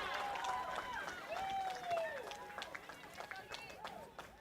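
Crowd cheering at a local football match between South Croydon and Park Orchards, rising as a player takes a set shot at goal, with a commentator talking over the steady roar.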